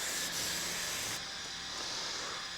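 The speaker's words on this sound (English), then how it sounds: "Anyways, that's done, so we'll just spray it out." A spray hisses steadily as a used engine from a secondhand purchase is rinsed out, a soft close rushing sound that thins slightly after the first second.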